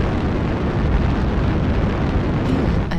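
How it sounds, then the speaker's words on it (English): A sustained, loud, rumbling artillery strike explosion from a video game fills the whole stretch as one continuous heavy roar. It stays steady throughout, with a faint sharper crackle near the end. "Artillery strike online."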